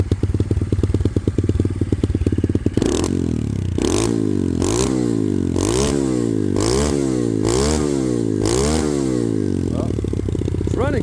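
A motorcycle fitted with a Nibbi Racing Vortex quick-twist throttle and throttle cable idles roughly, then revs repeatedly in sharp, evenly spaced blips, loud and close.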